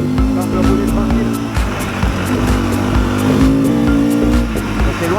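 A rally car drives a road stage while its co-driver reads roadbook notes, engine droning steadily and close with a few rising revs, and voices talk over it throughout.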